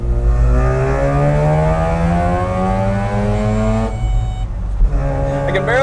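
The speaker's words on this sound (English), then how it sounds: "I can barely hear the buzzer over the sound of the engine." A Japanese mini truck's engine revs hard from inside the cab, its rising whine climbing steadily and loudly before dropping off with a gear change and revving up again.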